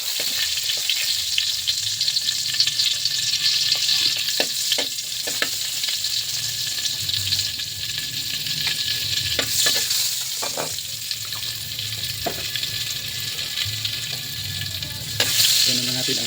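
Margarine sizzles in a pan as the base for corn soup, a close, continuous frying hiss broken by occasional scraping stirs and sharper crackles.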